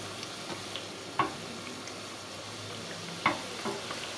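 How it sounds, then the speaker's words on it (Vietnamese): Bánh gối pastries fry in a little too little oil over a stove set to medium-high, giving a steady soft sizzle with a couple of sharp clicks of utensils against the pan. "Lẽ ra là phải chiên nhiều dầu hơn nữa đó, nhưng mà hôm nay nhà mình hết dầu, thành thử ra mình chiên nó hơi thiếu."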